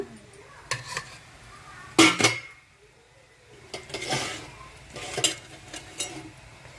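Dried prawns frying in a pan on a stove: scattered metallic scrapes and clinks from stirring, a couple of louder clattering bursts, and a faint sizzle underneath, with no speech.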